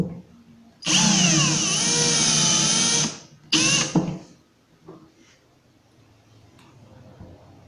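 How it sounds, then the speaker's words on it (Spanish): A power drill drives screws into the plastic legs of a DIY nightstand, giving a close, loud whine of about two seconds followed by a shorter burst, with no talking. "Coloca tu tornillo centrado en la patica plástica e ingresa los tornillos"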